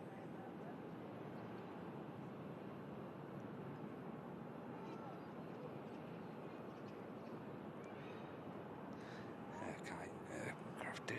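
A Jet2 Boeing 757 climbing away after take-off from runway 23L at Manchester Airport, a steady distant engine roar held throughout, with faint voices and a few higher clicks near the end.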